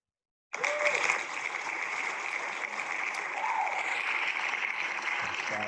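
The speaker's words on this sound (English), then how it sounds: "And the crowd goes wild." Crowd applause sound effect played during a classroom quiz, a steady wash of clapping and cheering that starts abruptly and holds at an even, moderate level for several seconds without talk over it.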